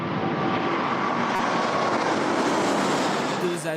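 An Air France Airbus A380 airliner taking off from runway 27 left, a loud, continuous roar of jet engines that holds steady and begins to ease slightly at the very end.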